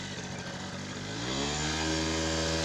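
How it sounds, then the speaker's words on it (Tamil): A restored TVS XL Heavy Duty moped engine, run to check for bearing noise, revs up and holds a steady buzzing drone, growing slightly louder and higher partway through, with no one speaking. "இப்போ வண்டி வந்து ட்ரையல் பார்க்கலாங்க, சவுண்டு எப்படி இருக்குது அப்படிங்கிறது."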